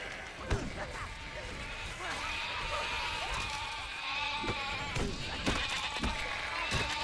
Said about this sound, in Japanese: 羊ども片付けながら。